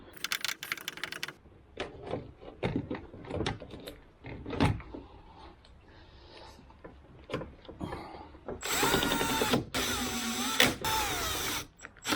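A Torx T27 screw is driven into the rear outer door handle of a 2014-2019 Toyota Corolla: scattered clicks and ratcheting taps, then a few close whirring bursts from the driver near the end.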